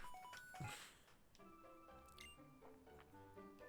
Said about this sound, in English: X-Transceiver ringing.